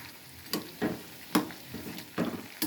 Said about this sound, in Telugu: గారెలు అయితే కాలుతున్నాయి.